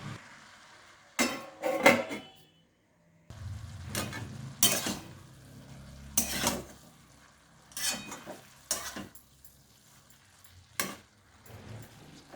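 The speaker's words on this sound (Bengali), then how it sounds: "আমি এখন একটা ঢাকা দিয়ে দেবো।" Lid set down on a pan of cabbage and tomato curry, with sharp metallic clanks and knocks spread out among quieter kitchen rattles and a faint simmer.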